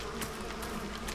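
Bees buzz in the stealth video game Metal Gear Solid 3, a continuous faint droning hum across a brief moment with no speech.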